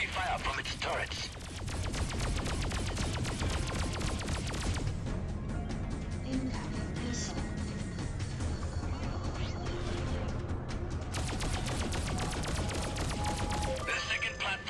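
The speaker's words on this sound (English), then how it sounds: "We're taking heavy fire from its turrets." Turret fire from space-station platforms in the space combat game Freelancer, a dense rapid barrage of shots running throughout, with a steady mechanical hum and music-like tones beneath and a talking voice present.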